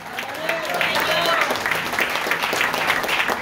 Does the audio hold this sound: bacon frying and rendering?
no